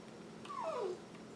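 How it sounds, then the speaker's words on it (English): A dog whimpers in the background for about half a second, a single thin, falling whine that sits faint and distant. "that's my dog in the background"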